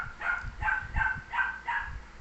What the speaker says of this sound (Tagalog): Ingay ng aso, no?